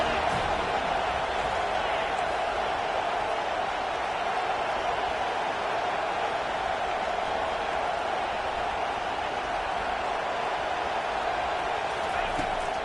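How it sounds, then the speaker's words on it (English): Steady roar of a stadium crowd cheering on third down in the American college football video game CFB25, a dense continuous wash of noise that holds level throughout. "Decibels rising as the crowd gets behind this defense on third down"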